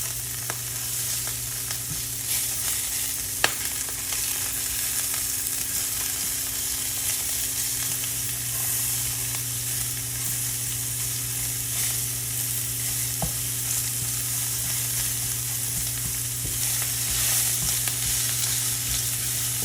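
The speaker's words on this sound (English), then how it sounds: "I'm just trying to like break up my sausage into little bite-sized pieces." Pork sausage sizzles loudly and steadily in a hot pan while it is broken up into bite-sized pieces, with occasional sharp utensil scrapes and taps over the constant frying.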